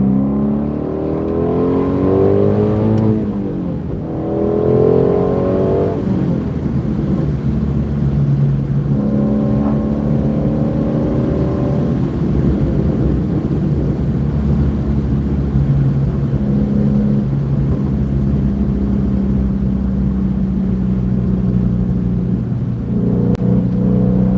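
Shelby GT350 V8 held at full throttle, a loud continuous engine roar with rising harmonics through several upshifts, steady and close throughout.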